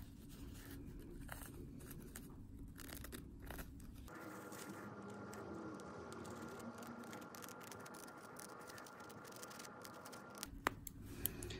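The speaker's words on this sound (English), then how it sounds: "So you can see how I'm doing that with the scissor blade to make sure I'm dividing any hairs underneath." Small, dry snips and scrapes from a scissor blade slicing and dividing the hairs of a hairpiece cut from a stencil, faint and close, scattered irregularly over a soft steady background hiss with no talking.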